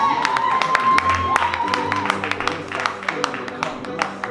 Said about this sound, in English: Show me by a round of applause